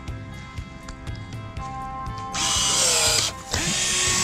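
A LIGO cordless pruning shear motor ticks and clicks in a steady rhythm, then surges into a loud, high grinding whir as the blades close on a thick branch, dips briefly, and resumes.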